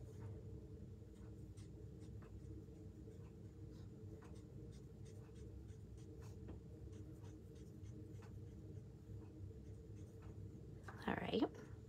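Markers scratch across paper in short, repeated strokes as a drawing is colored in, faint and close, with a brief louder rustle near the end and no talking over it.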